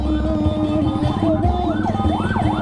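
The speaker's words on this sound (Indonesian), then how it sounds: "Oh, ambulan cuy." An ambulance siren wails in a busy town street in Bangkalan, Madura, during Eid al-Fitr night festivities, its rising and falling tone loud over engine rumble and crowd noise.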